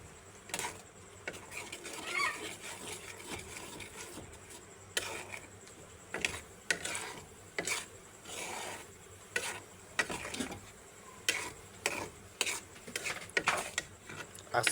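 Whole spices for masala bhuna fry in oil in a pan with a soft, continuous sizzle, broken by repeated clinks and scrapes of stirring against the pan.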